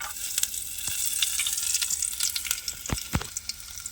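Hot oil sizzles and crackles close by as ingredients drop into it for a village-style potato curry, a steady frying hiss with sharp pops and a couple of louder bursts, no voices.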